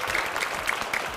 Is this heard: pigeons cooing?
no